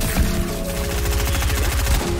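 Automatic gunfire in the Fortnite video game, a rapid steady burst of shots running throughout over a dense game and music bed, with no talking.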